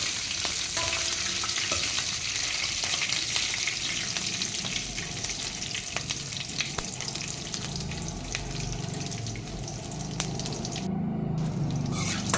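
Chana dal sizzles and fries steadily in hot oil until browning, a continuous close crackle with occasional stirring scrapes in an upma pan.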